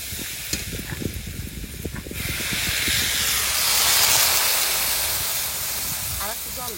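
Water is poured into a pan of turmeric, salt, potato and taro frying for a curry, setting off a loud, sustained sizzling hiss that swells and lingers after brief talk at the start.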